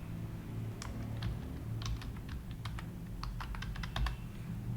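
Keys clatter on a computer keyboard as an item name is entered into Ayurvedic medical shop billing software. The keystrokes come in quick, irregular bursts, close and crisp, over a steady low room hum.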